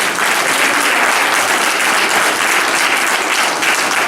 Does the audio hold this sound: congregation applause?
yes